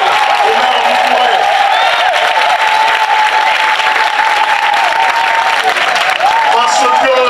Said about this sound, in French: Je voudrais qu'on fasse une acclamation exceptionnelle au maire Doucouré.